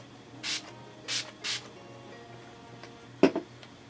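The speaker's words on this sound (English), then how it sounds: "I'm gonna try using this rose spray as kind of like a refresher" Rose face mist spray pumped three times in short hissing bursts close by, then a couple of sharp clicking taps, with quiet room hum between.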